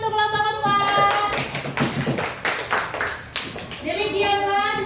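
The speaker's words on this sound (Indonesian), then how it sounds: "Beri tepuk tangan untuk kelompok 4." Classroom of children clapping for a student group after their presentation, a dense burst of many hands that swells and then tapers off, with light chatter mixed in.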